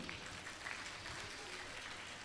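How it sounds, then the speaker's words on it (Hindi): Audience clapping at a religious question-and-answer gathering, a faint, steady spatter of hands from a crowd heard at some distance, with a little talk mixed in. "तालियां बजाइए।"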